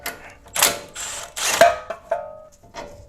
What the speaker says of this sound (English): You can go ahead and take off the nut now.